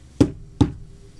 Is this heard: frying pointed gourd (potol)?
no